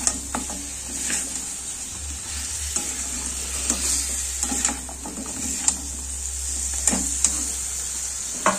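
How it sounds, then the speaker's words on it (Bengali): Mutton kadai being stirred in a pan on a village stove, with steady frying sizzle and scattered scraping clicks of a utensil against the pan, close and continuous with no talking. "ঢাকা দিয়ে আমি খানিকক্ষণ নাড়াতে থাকবো, তাহলে মটনটা বেশ ভালোভাবে সেদ্ধও হয়ে যাবে।"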